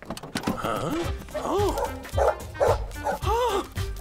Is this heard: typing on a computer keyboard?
no